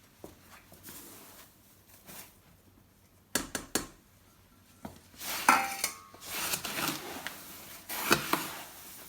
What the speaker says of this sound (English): I'm just using a trowel to get it out of the bag.